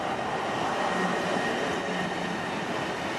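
A Seattle 2 Line light rail train rumbles past steadily with a continuous roar and faint metallic wheel noise, fairly near, no voices.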